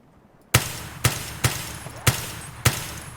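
Five sharp SKS rifle shots ring out in Escape From Tarkov, loud and close, spaced roughly half a second apart in a steady semi-automatic rhythm with brief reverberant tails.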